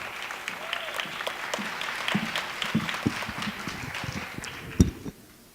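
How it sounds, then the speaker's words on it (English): A crowd at a Black History oratorical competition claps as a student speaker comes to the stage, uneven applause with individual claps and some footsteps, moderately close and tapering off into a brief thump before quiet. "Give her a round of applause, guys."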